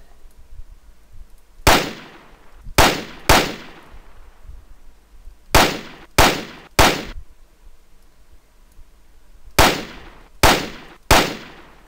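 Original gunshot sound effect sample: sharp, loud single shots in uneven clusters of two and three spread over about ten seconds. Each crack rings briefly before fading, with quiet background between the groups.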